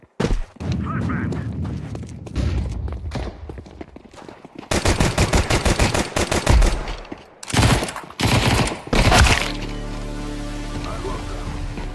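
Gunfire in the video game Counter-Strike 2, rapid automatic bursts and single shots in loud clusters with short gaps, ending in a steady electronic hum, with brief talking between bursts.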